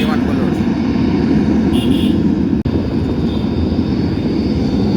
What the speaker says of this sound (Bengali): তাদের ক্যাম্প থেকে বিমানগুলো এখন আকাশে উড়ে যাবে একবার সাউন্ডটা শুনুন কি সাউন্ড